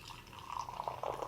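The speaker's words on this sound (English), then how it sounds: "I'm going to pour me a beer like how they pour in advertisements" Beer poured into a coffee cup, a soft, close liquid splash and trickle rising slightly in level over about a second, fairly quiet.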